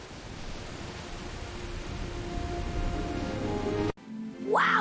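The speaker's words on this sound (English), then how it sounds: "That must be a waterfall." Jungle waterfall after rain, a steady broadband rush of falling water that gradually builds in loudness, then breaks off abruptly into a brief different sound.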